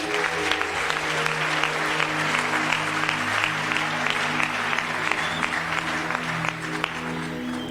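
A church congregation applauds to acclaim the Lord, with dense and continuous clapping from a large crowd, steady and fairly close. A faint voice speaks underneath it.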